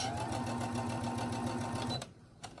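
A Brother SE1900 sewing machine stitches in a steady rapid mechanical whir with rhythmic needle clatter, close up, for about two seconds before stopping with a soft click.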